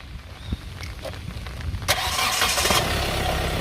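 A car engine cranks and catches, rising from quiet mechanical rattling to a steady running roar that holds to the end, close by and loud, with no talking.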